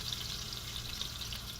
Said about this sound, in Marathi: आता तेल आपलं बऱ्यापैकी तापलंय. तर हे बघा, एवढी लसूण मी त्याच्यात घालत आहे